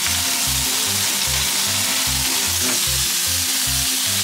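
Slices of ginger pork for shogayaki fry loudly in a pan, a thick, constant sizzle and crackle close up, with a regular low thumping pulse running underneath; no voices.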